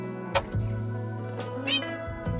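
A cat indoors in a bedroom gives a couple of short meows, close and moderately loud over a steady low electrical hum, with brief rustling between them.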